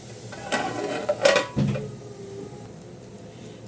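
A metal lid goes onto a cooking pan of coconut thoran with a few close, bright clanks and a short scrape, then low kitchen quiet with no speech.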